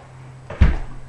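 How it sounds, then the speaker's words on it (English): A door opens with a single short thump and rattle indoors, close and fairly loud against a quiet room hum, no talking. "is my door opening?"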